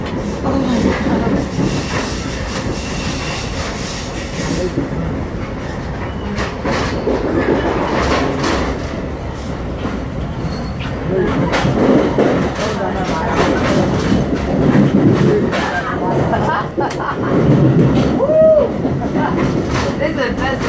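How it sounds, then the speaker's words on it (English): Train rolling along rails with rhythmic clickety-clack of wheels over joints and occasional squeals, steady and close from inside a carriage, with people talking over it. "This is the best train ride I've had."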